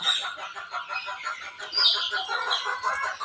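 Chickens clucking steadily in a coop, with a hen kept inside among other fowl; overlapping chatter and calls fill the space up close, no talk.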